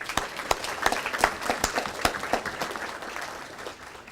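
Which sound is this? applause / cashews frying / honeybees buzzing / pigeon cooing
applause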